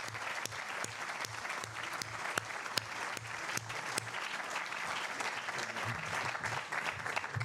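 An audience at a talk on liberalism with Antonio Escohotado breaks into sustained applause, a dense steady patter of many hands clapping with a few sharper claps standing out.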